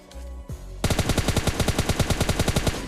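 Grenade blast in PUBG Mobile Lite: a muffled thump, then a loud rapid burst of repeated sharp cracks that continues steadily to the end with no speech.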